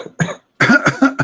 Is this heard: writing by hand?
no